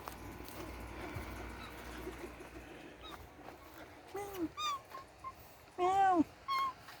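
A pet kitty on a farm meows twice, short rising-falling calls standing out near the end over quiet background hiss, with faint clatter earlier.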